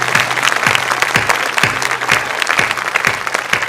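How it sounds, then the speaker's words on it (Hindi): An audience, a minister among them, claps in a steady, rhythmic burst of applause that stays close and loud for the whole stretch, with little talk underneath. "मंत्री जी आप ताली बजा रहे हैं"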